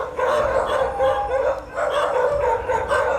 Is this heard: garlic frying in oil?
no